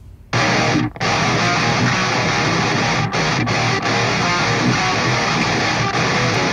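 Dense, heavily distorted electric rhythm guitar through an amp simulator, chugging loudly and steadily in a metal style, with a few brief stops between palm-muted riffs and no voices.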